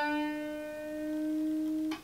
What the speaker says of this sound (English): here is a half step bend